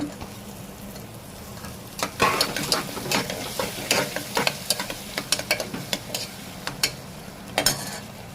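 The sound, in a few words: frying onions and tomatoes in a pan, stirring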